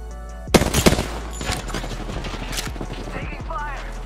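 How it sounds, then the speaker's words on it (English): Gunfire in a shooting video game on Android, a few sharp close bursts early on followed by scattered distant shots, with game radio voices speaking over it. "I am taking fire."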